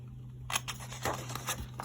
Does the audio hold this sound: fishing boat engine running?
no